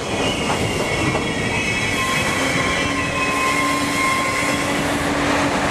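A loud, steady rumble of an elevated train passing overhead on a New York street, with a continuous roar and thin squealing tones from the wheels.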